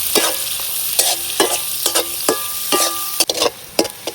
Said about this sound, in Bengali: এখন পেঁয়াজটারে লাল করে ভাজতে নিলাম